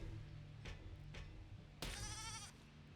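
Sheep bleating in the Besiege physics game, two faint short bleats followed by a louder, wavering bleat near the end, set over a steady low rumble of game background noise.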